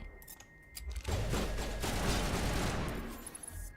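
Gunfire in Mass Effect 1's Bring Down the Sky DLC during a fight against Cerberus troops, with a sniper in play: dense, sustained crackling shots and impacts building after a quiet start, loud and continuous, then tapering off.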